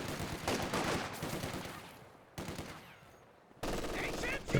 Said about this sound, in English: Try to avoid these machine guns